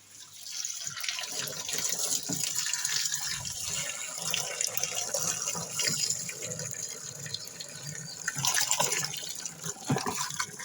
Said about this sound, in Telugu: ముందుగా అయితే వాటర్ పట్టుకుందాం